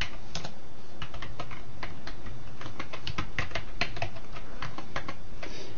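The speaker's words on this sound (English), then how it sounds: "And you want to type in your name." Rapid, uneven keystrokes on a computer keyboard as a name is typed into a registration form, close and clear with no talking.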